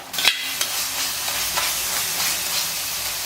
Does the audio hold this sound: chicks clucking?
no